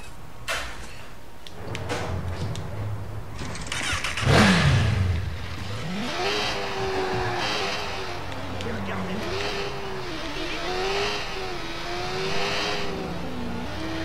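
A motorcycle in Watch Dogs starts with a sharp rev, then its engine rises and falls as it rides off, pitch sweeping up and down through gear changes, while someone talks.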